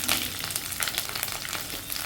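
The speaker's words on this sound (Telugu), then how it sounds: "మినపప్పు ఆవాలు ఎండుమిరపకాయలు అన్నీ వేసేసి తాలింపు వేసేస్తాను" Urad dal, mustard seeds and dried red chillies sizzle and crackle steadily in hot oil for a tempering, a busy close-up spatter with no talk.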